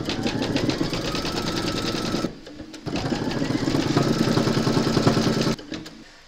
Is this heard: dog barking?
no